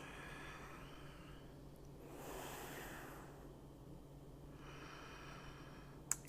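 Slow, deep breaths drawn during a gentle yoga session at a kitchen counter: a long, soft inhale swells and fades, followed by a second, quieter breath, faint and close.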